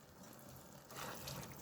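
Water is poured into a pot of risotto with radicchio, a soft, faint trickle that turns into a fuller splashing gush partway through, with no talking over it.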